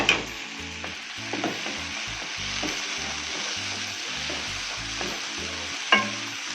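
Tomatoes and garlic fry with yellowing onions in a pan, giving a dense, steady sizzle up close, with a few sharp clinks of a utensil at the start and near the end.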